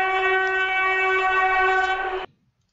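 A train horn from the Traincraft video game mod sounds a steady, loud chord-like blast for about two seconds, then cuts off abruptly into silence.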